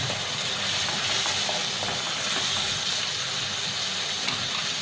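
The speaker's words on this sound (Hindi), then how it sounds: "2 cups of tomatoes. Give it a good mix." Tomatoes stirred in a hot pan for paneer butter masala give a steady, moderately quiet hiss and sizzle that carries on evenly with no talk over it.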